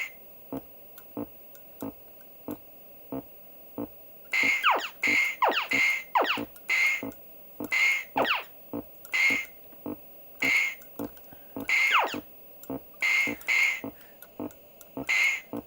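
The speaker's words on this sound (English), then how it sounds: "Well, the UFO sound works." Space Invaders arcade machine bought broken, with its UFO sound working: repeated warbling electronic tones come in bursts over a steady ticking march-like pulse, close and clear with no voices.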